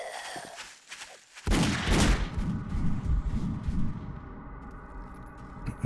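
Gunfire in the survival video game 7 Days to Die: a sharp blast hits after a quiet opening, then a dense burst of shots and booms rolls on and slowly fades.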